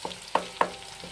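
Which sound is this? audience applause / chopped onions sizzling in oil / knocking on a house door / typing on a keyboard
chopped onions sizzling in oil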